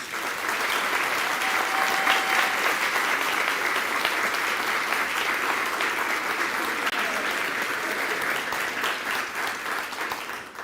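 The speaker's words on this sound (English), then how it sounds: "Please give them a round of applause." A crowd claps warmly and continuously at an arts center ribbon cutting ceremony, a dense even wash of applause that holds steady for several seconds before easing slightly.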